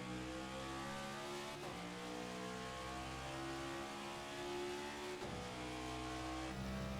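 A NASCAR NextGen race car engine in the iRacing sim at Charlotte holds a steady loud drone at partial throttle, with two brief dips in pitch as it shifts or lifts before climbing again, no voices over it.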